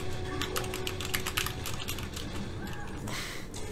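Keys clatter rapidly on a PC computer keyboard in a quick irregular patter, close and steady throughout, with a faint murmur of talk underneath.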